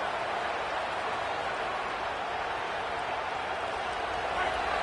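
Roar of a college football stadium crowd during an NCAA game, a steady, dense wall of cheering and shouting aimed at the offense, loud and unbroken throughout.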